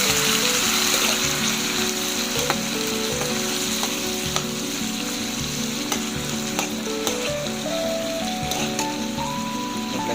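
Okra sizzles and fries in a hot pan with garlic and onion while cooking adobong okra. A dense, continuous crackle runs throughout, with no one talking.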